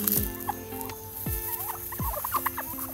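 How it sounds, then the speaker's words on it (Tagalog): Turkeys on a farm make repeated gobbling calls and short clucks near at hand, with other poultry chatter and faint rustling around them. "Ayan yung ating turkey."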